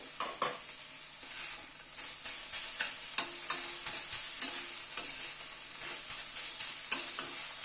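Banana flower for mochar ghonto is stirred in an uncovered pan, giving a quiet, steady sizzle with irregular soft scraping and tapping strokes from a spatula.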